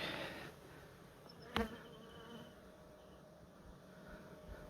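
Faint, steady buzzing of honeybees around a hive hums in the background with one brief sharp knock partway through; no voices.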